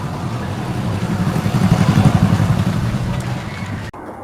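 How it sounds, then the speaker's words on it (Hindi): A new motorbike's engine runs steadily and close by, a dense low rumble holding even throughout before a brief cut near the end. "अरे न्यू बाइक"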